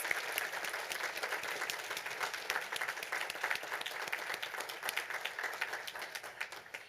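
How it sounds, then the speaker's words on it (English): Audience applause for students at a school district board meeting, a steady, dense patter of many hands clapping from a moderately distant room that holds evenly throughout and thins slightly at the end. "Let's give our students another round of applause."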